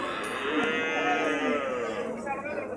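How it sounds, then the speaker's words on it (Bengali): Large water buffalo lowing at Kuti Chowmuhani cattle market, a sustained, fairly close bellow over steady market noise with voices mixed in. "দর্শক দেখতেই পাচ্ছেন এখানে বড় বড় মহিষ আছে"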